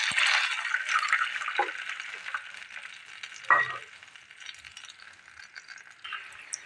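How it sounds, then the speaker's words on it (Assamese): Water bubbling and sizzling in a pan over finely chopped green chillies that were briefly fried, a steady close hiss with a couple of brief clinks of a utensil, no talk. "পানীখিনি উতলিছে।"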